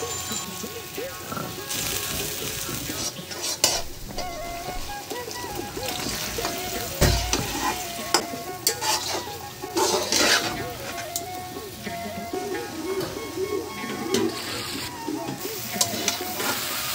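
Goat head muri ghonto fries in a pan with rice, browning while being stirred: a steady close sizzle with scraping stir strokes and occasional clinks of utensil on pot, and a voice speaking briefly over it.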